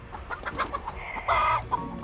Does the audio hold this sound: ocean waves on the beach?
no